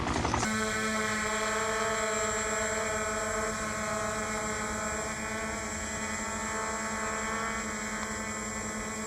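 Zero Zero Robotics Falcon Mini drone flying inverted, its propellers giving a steady, close, high-pitched whine with strong tonal harmonics that holds throughout after a brief start.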